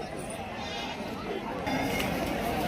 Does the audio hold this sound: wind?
no